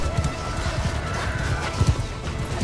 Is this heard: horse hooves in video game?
yes